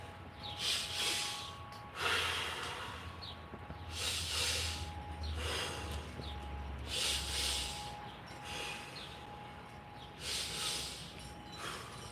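Several deep, forceful breaths taken before an attempt, loud and close, drawn in a slow rhythm of about five long inhales and exhales over a faint steady background hum, with no talking.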